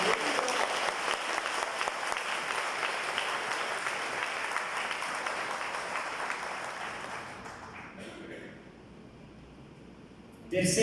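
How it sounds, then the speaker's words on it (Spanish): Church congregation applauding together during a Spanish-language service: a dense, sustained wash of clapping that fades after about seven seconds, leaving quiet room noise before a brief burst at the end. "Dale un fuerte aplauso al Señor."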